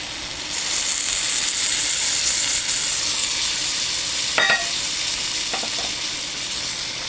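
Sautéed bitter gourd seasoned with pepper and salt sizzles steadily in a hot pan while being stirred for ginisang ampalaya, a loud constant hiss broken by a couple of sharp utensil clinks.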